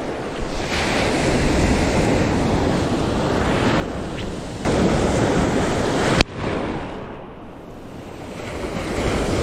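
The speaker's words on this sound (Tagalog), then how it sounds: "Laki na nung alon." Big ocean waves crashing and surging around a boat at sea while fishing, a loud, roaring wash with strong wind buffeting the microphone and a sudden splash.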